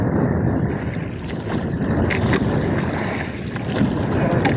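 Strong wind buffets the microphone in a constant loud rush on a small fishing boat at sea, with water and boat noise churning beneath it and no voices.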